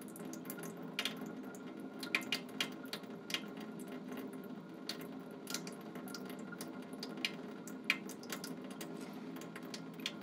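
Faint running water from a tap rinsing a Gram stain microscope slide at a lab sink, a steady trickle with occasional small splashes and drips, no voices.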